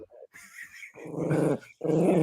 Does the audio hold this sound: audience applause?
no